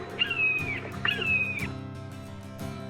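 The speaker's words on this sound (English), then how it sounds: "listen to the sounds of native birds, like the red-shouldered hawk" A red-shouldered hawk at a nature park gives two clear, downslurred screaming calls in quick succession, fairly close and prominent over a steady low background hum.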